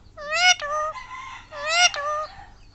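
A pet parrot imitates a chicken call, giving two clear, close bursts of harmonic clucking and crowing with quiet gaps between them and no talk.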